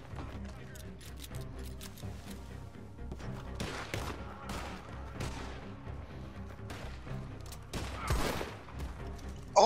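Bursts of gunfire crack through a chaotic Red Dead Redemption 2 shootout, with repeated shots and a heavier blast near the end, under overlapping excited voices.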